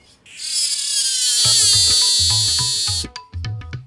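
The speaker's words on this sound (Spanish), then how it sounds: "Como solo estridulan los machos, muchos investigadores creen que su canto está relacionado con la atracción de las hembras" A male insect stridulates in a loud, dense buzzing trill that runs steadily for about three seconds, joined by low pulsed clicks, then breaks into short separate chirps near the end.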